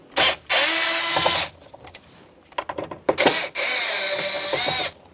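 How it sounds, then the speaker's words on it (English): Power screwdriver or drill driving out the dash mounting screws on a 1997-2006 Jeep Wrangler heater fan control panel, two long whirring bursts separated by short clicks and rattles, close and loud. "Phillips screwdriver or 5/16 or 8mm socket."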